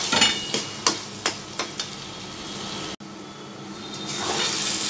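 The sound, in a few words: coconut paste and prawns being stir-fried in a pan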